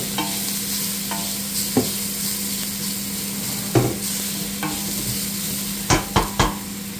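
Onions and garlic sauté for chicken sopas, making a steady sizzle that runs throughout, with a few sharp utensil clinks against the pan near the end.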